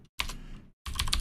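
Two quick bursts of typing on a computer keyboard, close and clear, with rapid key clicks separated by a brief pause.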